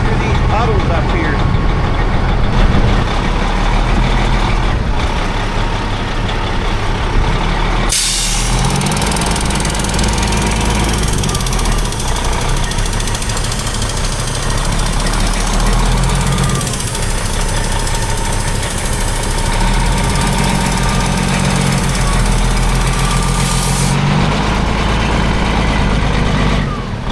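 A truck engine roars and revs hard while its wheels spin in mud and puddles on a muddy field, a loud continuous rumble with changing pitch and a short drop partway through; someone talks over it.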